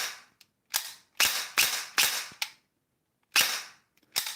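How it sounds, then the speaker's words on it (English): An unloaded gel blaster with electric blowback fires in short sharp bursts, about seven loud snapping cracks in irregular groups with brief silences between, close up. "But this is what the electric blowback looks like."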